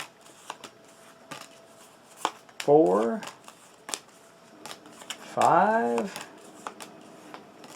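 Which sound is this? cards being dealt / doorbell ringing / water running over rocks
cards being dealt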